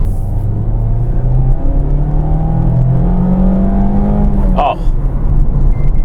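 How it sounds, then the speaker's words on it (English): A 2025 Mazda MX-5 RF four-cylinder engine hums and revs steadily with rising and falling pitch, a short exclamation from a voice partway through. "it's real engine noise"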